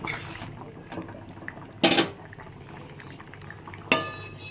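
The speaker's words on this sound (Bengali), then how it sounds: "ঢাকাটা খুলে দেখছি ঝোলটা বেশ ফুটে উঠেছে" Rohu fish curry broth with drumsticks and potatoes bubbles in a pot after the lid comes off, a low simmering burble broken by a few sharp clanks of lid or utensil.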